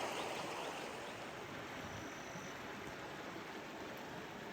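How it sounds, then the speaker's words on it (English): River water gurgles and babbles in a steady, fairly faint wash at a riverside campsite, continuous and without voices. "Gurgling water, and yeah, quite pleasant here."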